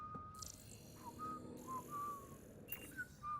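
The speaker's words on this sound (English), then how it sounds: "Just whistling." An in-game character in Mass Effect: Andromeda whistles a few short, tuneful notes at moderate level over a low background hum, with brief pauses between phrases.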